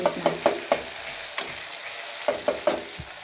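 Cluster bean curry with chilli powder sizzling in a pan while a spoon stirs it, a series of sharp scraping knocks in quick clusters over a constant frying hiss, close with no talk.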